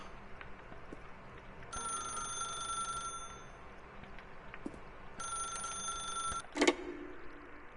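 A telephone rings in The Stanley Parable video game, two separate bursts of electronic ringing a few seconds apart over a quiet ambient background, followed by a brief click.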